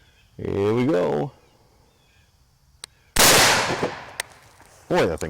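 A gunshot from a .223 pistol fitted with a TacFire linear compensator, a single loud, close blast with a long ringing decay, preceded by a voice talking and followed by a brief sharp click.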